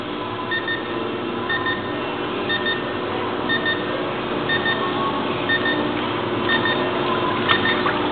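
An electronic buzzer beeps in short repeated pulses, fairly faint, over a constant humming machine drone.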